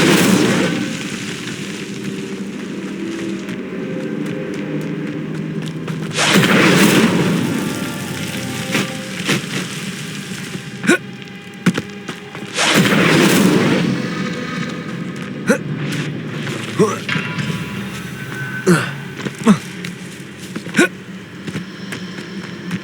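The Incendio fire spell goes off in Hogwarts Legacy with two loud, rumbling bursts several seconds apart, set among sharp clicks and a steady game ambience.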